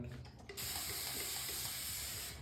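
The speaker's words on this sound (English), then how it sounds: "Add a bit more water." Water running from a tap while preparing shaving soap lather for a straight-razor shave: a soft trickle, then a steady, fuller pouring hiss that continues to the end, faint and close, with no talk.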